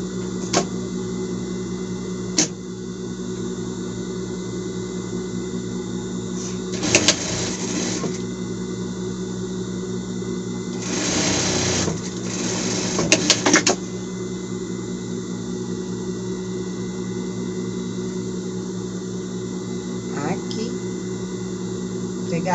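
A sewing machine stitches a seam on a knit shirt with raglan sleeves, a steady mechanical whir with short louder bursts, running under someone speaking Portuguese.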